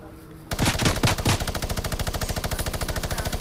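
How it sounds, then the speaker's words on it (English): A minigun fires in the video game Fortnite, a loud rapid mechanical rattle that starts abruptly with a few heavy thumps and then settles into a fast, even stream of shots. "It's a mini gun, boy."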